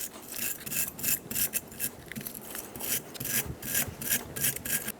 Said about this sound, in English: Using a wire brush, we're going to clean the valleys in this bracket.